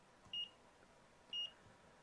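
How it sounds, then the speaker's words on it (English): A multimeter set to diode mode gives two short, clean beeps about a second apart, faint and isolated against a quiet background while a water-damaged MacBook Pro logic board is being tested. "if I put my multimeter on diode mode reading"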